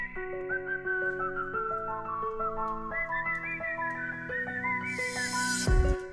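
A whistled melody sample runs as the lead over synth chords and bass in a drumstep track, steady and prominent throughout, with a brief burst of noisy percussion near the end.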